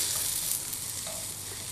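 Brinjal (eggplant) pieces fry and brown in a pan, with a dense, steady sizzle and a soft scraping as they are stirred.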